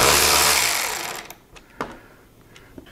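A power tool whirs while loosening the long center bolt holding a motorcycle windshield and front fairing. The close, loud spin fades out, followed by a few light metallic clicks.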